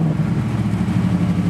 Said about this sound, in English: It's idled up a little bit high because of the choke.